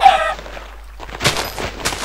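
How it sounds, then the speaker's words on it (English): A Minecraft chicken gives a short, high cluck at the start, followed by a few brief clicks and taps from the game, all fairly close and with no voices. "Let's get a chicken."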